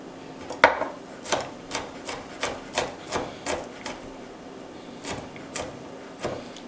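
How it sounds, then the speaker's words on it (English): A knife rough-chops vegetables on a board for beef goulash, giving about a dozen close, sharp taps in a loose, uneven rhythm with no talking. "So you just want to slice it, keep your fingers out the way. Just rough chopping it."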